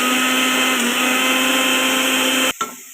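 A mixer grinder whirring loudly as it grinds a masala of chickpeas, chili powder and coconut, a steady high motor whine that cuts off abruptly near the end, followed by a brief clunk.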